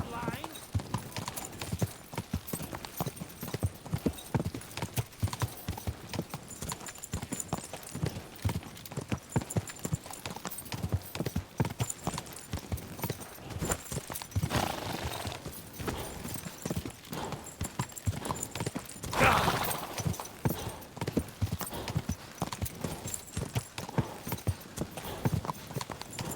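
Horse hooves clip-clopping steadily in the Kingdom Come 2 video game, a continuous rhythmic trot under someone talking, with a brief louder burst partway through.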